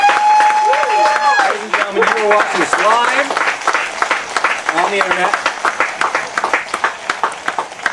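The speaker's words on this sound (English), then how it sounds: "Let's give a round of applause." A small studio audience applauds during a live-streamed comic book show, the clapping running underneath a man's announcement and continuing on its own afterward.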